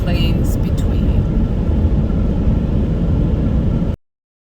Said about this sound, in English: where I'm actually driving now, is the flat plains between